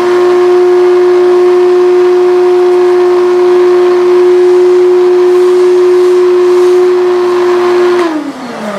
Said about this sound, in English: From here, I'll kick the vacuum on.